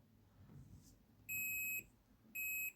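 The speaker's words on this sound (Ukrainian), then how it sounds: "Мультиметр в режим прозвонки. Щупи пищать." A multimeter set to continuity mode beeps through its probes while testing old voltage stabilizers in a faulty reverse-polarity-damaged UPS: two steady high electronic tones, the first about half a second long and the second shorter, over quiet room background.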